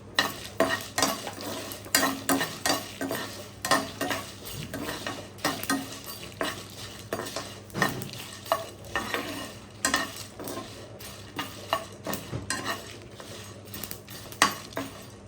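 Pieces of fish cooking in a pan on a low flame for a fish pulusu, with a steady sizzle broken by frequent soft scraping and tapping of a spoon in a rhythmic pattern.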